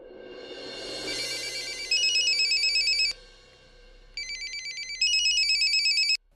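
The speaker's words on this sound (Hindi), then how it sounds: "आप उसे फोन लगाइए, मैं उससे बात करता हूँ।" Telephone ringback on an outgoing call, electronic trilling rings in two bursts separated by a short pause, clear and close with no talking.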